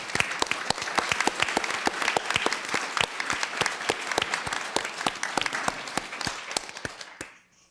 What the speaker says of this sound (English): I want us to give a round of applause to all of you who care for your loved ones.